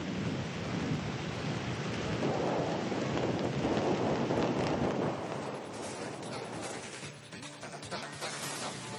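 Heavy monsoon rain with rolling thunder in Mangaluru, Dakshina Kannada, near Ergundi Falls: a loud, dense, steady roar of downpour with low rumbles and gusty wind buffeting the microphone, easing slightly toward the end.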